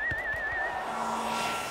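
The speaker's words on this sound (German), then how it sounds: "der Schiedsrichter pfeift zur Halbzeit" A referee's whistle blows for half-time in a football match between Germany and Brazil at 2:1, a single clear, wavering tone lasting under a second above a steady background hum.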